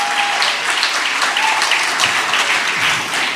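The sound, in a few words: audience applause welcoming a poet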